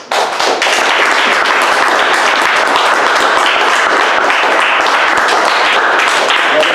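A church congregation applauding, a loud, dense, continuous burst of many hands clapping from the first moment to the end, no speech over it.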